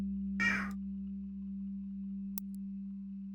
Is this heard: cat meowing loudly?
yes